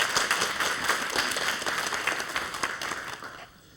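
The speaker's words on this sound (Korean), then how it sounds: "박수로 강의 청해 듣겠습니다" Studio audience on a Korean morning talk show breaks into steady, dense applause, many hands clapping together at fairly close range before the noise tapers off near the end.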